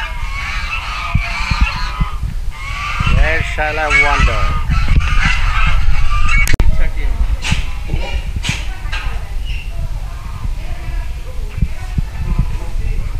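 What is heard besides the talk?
geese honking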